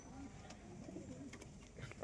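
Pigeons coo softly in a loft with nesting boxes, a low, faint, continuous murmur of several birds close by.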